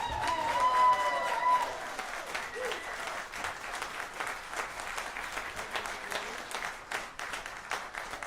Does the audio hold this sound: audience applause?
yes